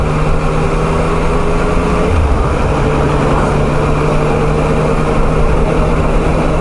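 A Yamaha Tracer 900 motorcycle engine hums steadily while riding, a constant droning tone with a low rumble and rushing wind noise underneath, unbroken and fairly loud throughout.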